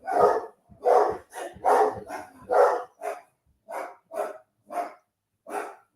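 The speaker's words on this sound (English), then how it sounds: "The dogs are barking." A dog barks repeatedly, a quick flurry of loud, close barks followed by a slower series of separate barks with short pauses between them.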